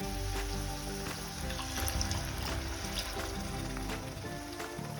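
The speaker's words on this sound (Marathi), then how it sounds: "आता आपण यामध्ये थोडंसं पाणी घालायचंय" Roasted masala for a soybean curry hisses and sizzles steadily in a hot pan after a little water goes in, a dense crackling fry close by with no talking.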